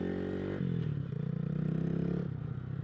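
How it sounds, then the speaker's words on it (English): Mini motorbike, a KP Mini 150 RS EFI fitted with a new exhaust, revving close by in short rising bursts of engine note between idle dips, no talk. "now we're gonna check this new exhaust"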